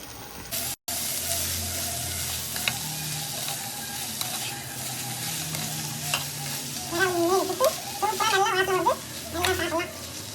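Murrel fish puttu, flaked boiled fish with fish masala powder, stirred and fried in a pan, giving a steady sizzle with scraping spoon strokes throughout and brief talk near the end.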